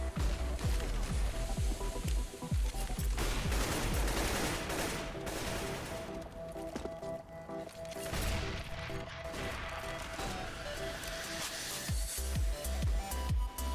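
Dense, continuous gunfire in a CS:GO match on Dust 2: rapid rifle bursts and overlapping shots with clattering impacts, loud and close, with no talk.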